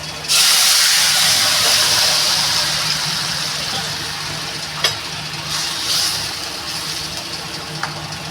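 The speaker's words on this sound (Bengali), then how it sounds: "এবার আমি তরকারিটা ঢেলে দেবো" Curry pours into a hot pan and erupts in a loud, broad steaming hiss that starts abruptly and slowly fades, with a few sharp clinks along the way.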